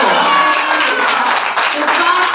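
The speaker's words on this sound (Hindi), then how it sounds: "सलाम तालियां बजाएं, सलाम तालियां।" Church congregation clapping during a Palm Sunday service, loud dense rapid clapping mixed with voices, filling the whole brief moment close to the listener.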